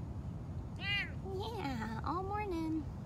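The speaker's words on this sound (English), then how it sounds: "Hutch is also an African serval" An African serval cat at a big cat rescue gives several close, drawn-out meows with rising and falling pitch over a steady outdoor background.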